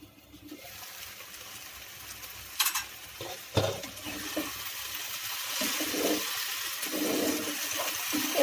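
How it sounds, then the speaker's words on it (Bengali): Namkeen vermicelli is stirred in a hot pan, giving a steady sizzle with a few sharp scrapes and knocks of the spoon against the metal, close by and with no voices. "এবার নাড়াচাড়া করে নেব কিছুক্ষণ"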